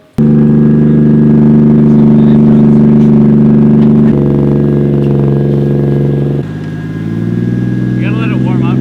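A drift car's engine idles loud and steady close by while warming up, settling to a lower idle partway through, with a voice talking briefly near the end.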